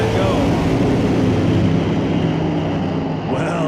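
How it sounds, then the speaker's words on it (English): A drag racing car at an NHRA divisional qualifying event builds revs while the engine drags against the clutch. It makes a loud, steady, roaring drone that stays close and unbroken throughout. "build up some RPM, get it dragging against the clutch, and bump it in there with the handbrake"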